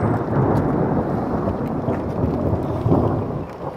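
A hailstorm at M4 motorway services in the UK brings deep rolling thunder, a steady low rumble that swells slightly near the end, mixed with dense rain or hail noise and no voices.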